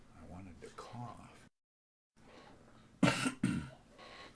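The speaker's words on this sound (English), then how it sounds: "I wanted to cough." A single cough close to a microphone, then a second shorter one, with quiet talk before and a silent gap before the coughs.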